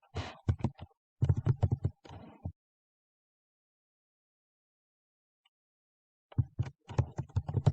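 Keystrokes on a computer keyboard while entering Python code, in two quick bursts of clicky taps, a pause of near silence, then another run of typing, close and moderately loud.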